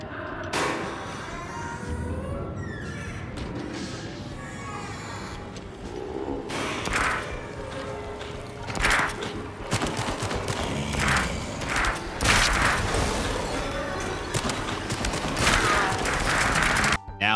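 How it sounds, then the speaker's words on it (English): Uzis and grenade launchers fire nonstop in the VR shooter Switchback VR, a loud dense barrage of rapid shots, thumps and crashes with music and game effects running underneath throughout. "you're packing Uzis and grenade launchers and shooting glowing skulls to get the highest point"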